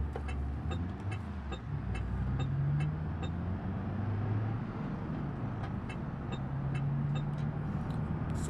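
A car drives in BeamNG Drive with a low steady engine drone and a faint, regular ticking throughout, heard alone without talk.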